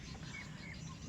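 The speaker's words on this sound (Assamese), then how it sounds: "গধূলিৰ এই চৰাইৰ বাহৰ মাতবিলাক" Birds call at dusk among trees as they return to roost, a faint, thin chorus of brief chirps over a steady low outdoor hum, with no talking.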